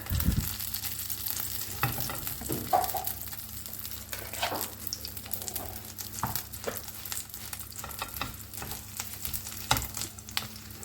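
Spoonful of Jerusalem artichoke batter frying in hot butter in a pan, a steady close sizzle and crackle with scattered sharper pops throughout, no voices.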